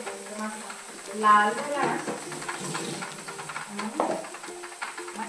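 A small, finely chopped onion sizzles as it is sautéed in a pan, with stirring scrapes and uneven crackle. Someone speaks briefly over it.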